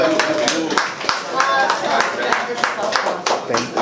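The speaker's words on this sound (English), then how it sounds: "give him a round of applause" An audience claps at a live writing session, a brisk burst of close, dense clapping that carries on steadily for a few seconds with voices mixed in.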